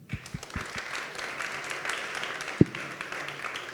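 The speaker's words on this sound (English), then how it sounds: "Round of applause, please." Audience at a startup conference in Vienna breaking into applause, a dense, even wash of clapping at moderate distance, with a few sharper individual claps standing out and faint voices underneath.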